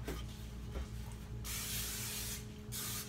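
Cooking oil sprays onto a baking pan in two close, loud hissing bursts, the first about a second long and the second shorter, with no talking.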